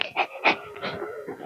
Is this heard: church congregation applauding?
no